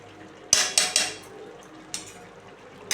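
Metal spoon scraping and knocking in a pan of fig (dumur) curry seasoned with garam masala, several close clattery strokes in quick succession, then a pause and another scrape near the end, no talking.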